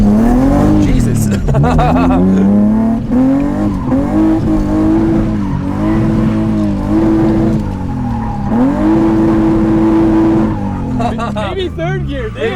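A project BMW E30 drifting on a road course, its engine howling and revving through rising and falling gears with tire squeal throughout, loud and close, while a person talks over it.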